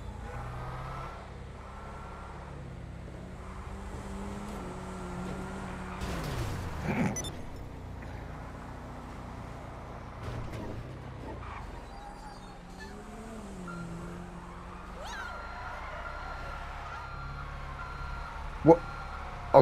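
Reversing beeps from trucks down a city block, a repeating electronic beep over idling engine rumble and passing traffic, heard from some distance with occasional brief bangs.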